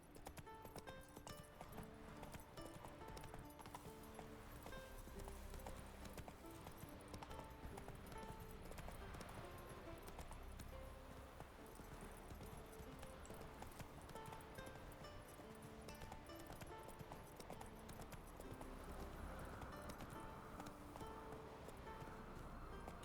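Roach the horse trots through The Witcher 3 with steady rhythmic hoof clip-clops, faint and continuous beneath game music and ambient rustling.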